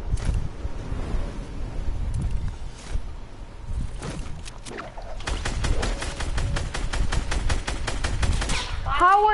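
Rapid bursts of automatic gunfire and single shots in a video game, with dense repeated cracks building into a sustained volley, a player's voice talking over parts of it.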